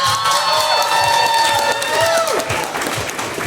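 Crowd applause and cheering at an anime convention cosplay showcase as a Madoka Magica contestant comes up onto the stage; steady clapping with whoops from a large audience, continuous and fairly loud throughout, with voices mixed in.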